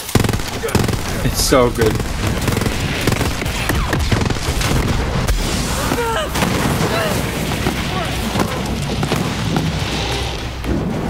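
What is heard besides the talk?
laser gun firing in the video game Borderlands 3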